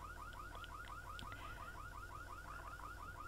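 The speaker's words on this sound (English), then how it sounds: "Oh, that alarm is loud." An alarm in The Sims 3 gives a steady run of rapid, evenly spaced electronic chirps, quiet and continuous for the whole stretch, with no voices over it.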